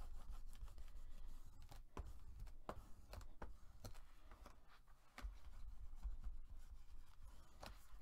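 Soft rubbing and pressing on card album pages as they are burnished down by hand, with faint irregular taps and scuffs close by in a quiet room.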